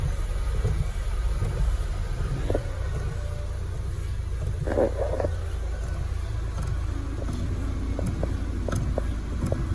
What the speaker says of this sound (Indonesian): Mesin agak getar ya, mungkin mounting nanti kita lihat